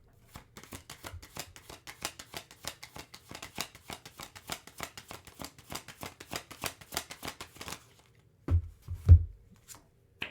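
Tarot cards riffled and shuffled in a quick, crisp flurry of soft snaps for several seconds, then a pause and a few duller handling thumps as cards are drawn from the deck, close and quiet with no talking.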